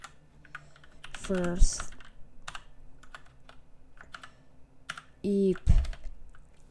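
Keys clatter in scattered bursts on a newly bought computer keyboard, with faint taps spread across the stretch and a person speaking briefly, plus short vocal sounds between the typing.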